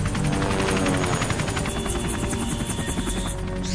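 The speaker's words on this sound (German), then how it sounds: "Wir kämpfen jetzt gegen einen Helikopter." Helicopter rotor thumping loud and steady throughout a boss fight in the video game Metal Gear Solid: The Twin Snakes, with a high whine joining partway through.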